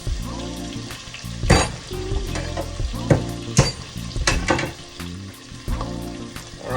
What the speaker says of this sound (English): I have some chopped up garlic that I'm about to add.